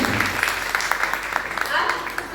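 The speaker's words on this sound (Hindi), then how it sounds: "इसी बात पर एक बार जबरदस्त वाली तालियां फिर से हो जाए।" Audience applause at a Hindi comedy and satire stage show, a bright, continuous patter of many hands clapping together, moderately loud and steady.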